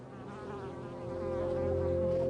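Honeybees at a wooden hive on a small Ethiopian family farm, a close, steady buzzing drone that swells slightly louder toward the end, with no talking.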